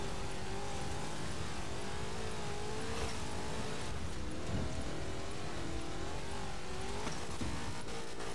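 A car in Forza Horizon 4 accelerating hard, with a loud, sustained engine roar that rises and shifts through gears, continuous and close throughout.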